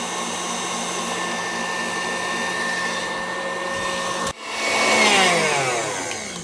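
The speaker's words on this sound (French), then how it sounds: "la crème mousseline a été battue pendant 5 bonnes minutes" A stand or hand mixer beats crème mousseline for a strawberry-raspberry dacquoise, giving a loud, steady motor whine with a harmonic hum. Near the end it briefly cuts out, then restarts with a rising, sweeping pitch as the speed changes.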